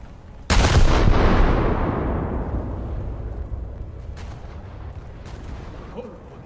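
Warship guns firing in a naval video game: one heavy, booming salvo that rolls out into a long fading rumble, followed by a few faint distant thuds.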